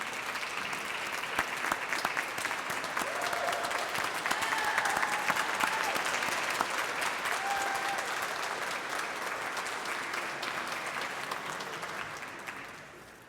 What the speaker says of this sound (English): let us give you a round of applause for your support